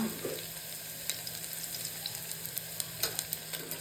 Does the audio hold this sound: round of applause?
no